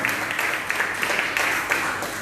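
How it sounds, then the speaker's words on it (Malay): A crowd at a political gathering gives a loud round of applause for Dr. Zaid, dense steady clapping filling the whole stretch with a few sharper claps. "Saya rasa kita patut beri satu tepukan gemuruh kepada Dr. Zaid."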